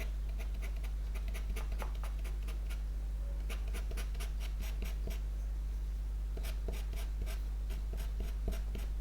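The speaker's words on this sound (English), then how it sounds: "now I can use my black pastel pencil" A black pastel pencil scratches across paper while shaping a goat's nose in a soft pastel drawing, with quick repeated strokes in short bursts, close and crisp over a steady low hum, no speech.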